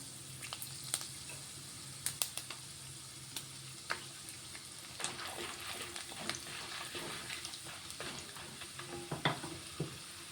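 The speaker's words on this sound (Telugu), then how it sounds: "ఇప్పుడు కొంచెం మినపప్పు శనగపప్పు వేసుకుంటున్నాను అలాగే ఒక రెండు ఎండుమిర్చి తీసుకున్నాను అవి కూడా వేస్తున్నాను" Urad dal, chana dal and dried red chillies crackling in hot oil as a South Indian tempering, a soft, steady sizzle with scattered sharp pops and stirring, close but quiet.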